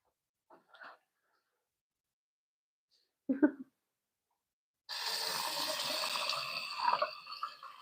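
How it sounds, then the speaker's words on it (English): Water runs steadily from a tap while a baby's bottom is washed, a close, continuous hiss that follows a brief cough and a short thud, with no talk during the flow. "So I'm gonna go and wash her bum."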